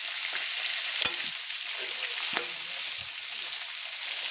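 Golda prawns frying in a pan of hot oil, giving a steady broadband sizzle with a few sharp pops and taps from turning the pieces, close and moderately loud with no talk.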